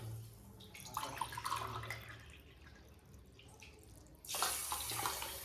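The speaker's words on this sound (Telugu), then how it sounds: "అదే గ్లాస్ తోటి మళ్ళీ మనము 2 గ్లాసుల నీళ్లు పోసుకుందాము" Water poured from a glass into a pan for gulab jamun sugar syrup, a steady splashing trickle with a louder gush of pouring toward the end, close and without talk.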